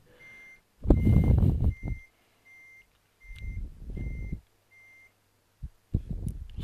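A truck reverses in Euro Truck Simulator 2, in Dover, its backup alarm repeating steady evenly spaced beeps while louder bursts of engine rumble and vehicle noise rise and fall around them.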